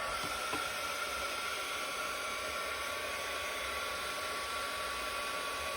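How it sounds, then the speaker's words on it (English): A heat gun blows a steady, loud stream of hot air to dry fresh paint on a bumble bee frame, a continuous broadband roar with no talk throughout. "just give that a quick blast with the heat gun"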